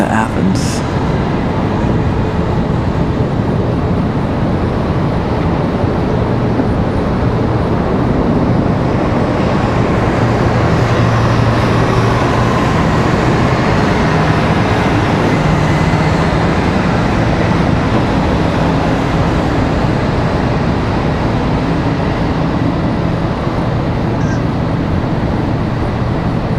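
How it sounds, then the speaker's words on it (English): A Boeing 787 Dreamliner takes off from Washington Dulles bound for Athens, producing a loud, steady broadband roar that holds unbroken for the whole stretch. "There's our Dreamliner off to Athens"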